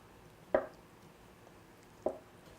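A kitchen knife chops a washed ingredient for tteokguk (rice cake soup) on a cutting board, with two crisp, separate thunks about a second and a half apart against a quiet room and no voices.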